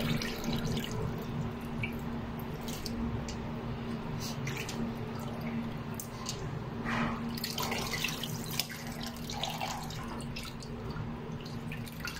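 Excess water drains from milkfish (bangus) in a kitchen, heard as a continuous soft trickle with scattered drips over a low steady hum, fairly quiet and close.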